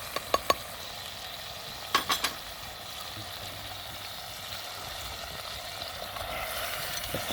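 Mutton stirred and fried in a pot with salt, red chili, turmeric and coriander powder for aloo gosht: a steady close sizzle with a few sharp clinks of a spoon against the pot near the start.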